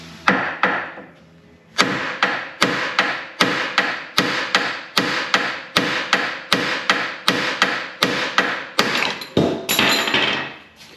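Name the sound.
hammer hitting Jeep XJ track bar to knock it loose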